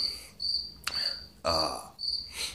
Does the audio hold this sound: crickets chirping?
yes